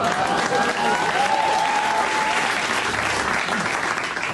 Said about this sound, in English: I think that round of applause is called sympathy.